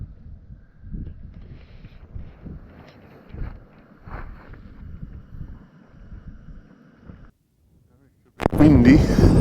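Wind buffets a tent camp on a misty, cloud-covered mountain route, first as a low muffled rumbling, then as a loud gust hitting the microphone at the end.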